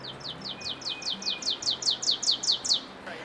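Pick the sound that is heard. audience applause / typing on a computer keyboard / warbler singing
warbler singing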